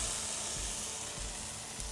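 Thin wagyu steak sizzling on a stainless steel griddle over medium-high heat, a continuous close hissing sizzle with a faint low hum beneath, steady and even throughout.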